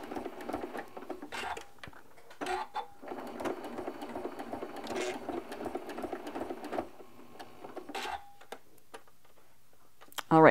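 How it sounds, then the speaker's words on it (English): A sewing machine back-stitches through quilt binding, running in short bursts of steady whirring stitches with brief pauses between, close and fairly loud. "I'm going to back stitch to do that."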